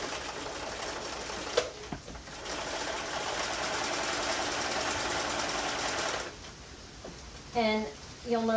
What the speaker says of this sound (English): I'm just going to sew right along the inside of my pins